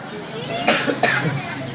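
Two sharp coughs from a baby close together, loud and near, with faint background noise between them.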